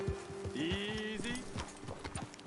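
Horse hooves clip-clop in a steady, close rhythm in a video game, with a brief whinny-like tonal call and soft speech-like sounds mixed in.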